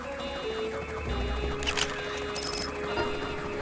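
Car alarm sounding in the Dead Rising Deluxe Remaster video game, its repeating electronic tones mixed into a dense, steady bed of game noise at moderate loudness.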